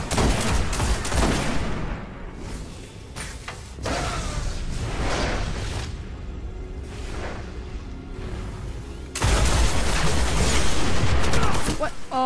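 Sniper rifle fire in Destiny Crucible multiplayer, dense loud shots and whooshing impacts repeating through the scene, with a sharp burst of heavy gunfire near the end.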